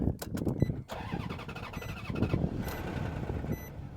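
A Mercedes S-Class 6.0 L V12 engine cranks and catches, then runs roughly with an uneven, sputtering idle, fairly close and loud.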